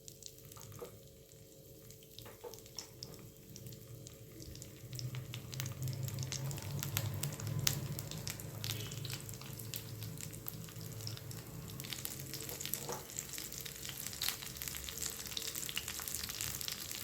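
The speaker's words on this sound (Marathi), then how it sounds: "आपण हे शालो फ्राय करणार आहोत." Paneer rolls shallow frying in oil in a pan, a quiet continuous crackling sizzle with faint pops, steady throughout and unaccompanied.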